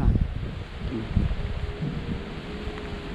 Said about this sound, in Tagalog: Sobrang hangin talaga tayo.